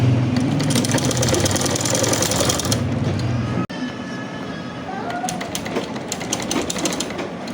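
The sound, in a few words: sewing machine stitching shalwar seam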